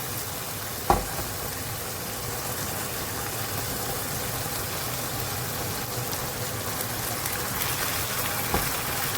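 Pasta being added to a hot pan, a steady loud sizzle and crackle that holds throughout, with a sharp clatter near the start and a softer knock near the end.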